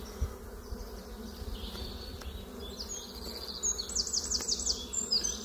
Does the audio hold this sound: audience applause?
no